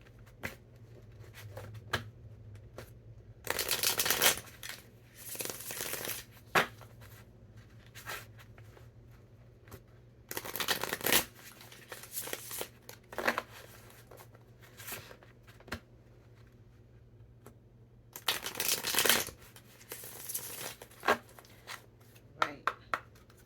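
An oracle deck, the Black Hollywood Romance Stars deck, being handled and cut, giving repeated papery shuffling and riffling bursts of a few seconds each, separated by quieter soft handling noises.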